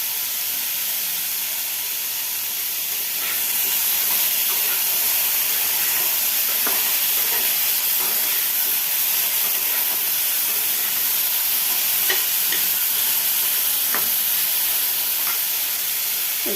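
Food fries in a pan in a home kitchen, a steady hissing sizzle throughout with occasional soft utensil taps and scrapes, close and unbroken by speech.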